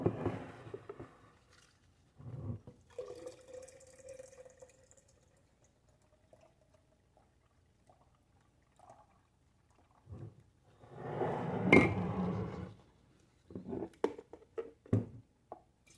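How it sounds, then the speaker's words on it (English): Homemade vegetable juice is poured from one container into another in short quiet bursts of splashing and trickling liquid, with pauses between pours and a louder gush near the end. "let me pour some of this one into the other one"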